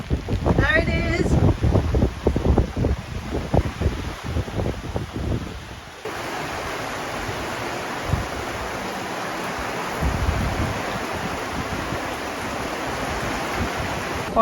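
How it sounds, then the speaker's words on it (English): Wind rushing and buffeting over open sea while a boat is under sail, a steady broadband roar that starts gusty with some knocking and then settles into a constant loud whoosh. "so we might as well use the wind, right?"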